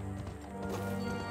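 Horse hooves clip-clop in a video game, a steady clatter of gait that runs under game music and ambience for just over a second.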